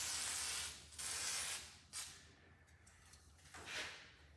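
Lubricant sprays onto a dash part of a Cub Cadet spread-frame garden tractor in several short, close hissing bursts with brief pauses between them.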